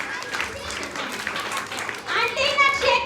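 An audience of children at a church puppet show claps in a brief burst of applause, mixed with children's voices and talk.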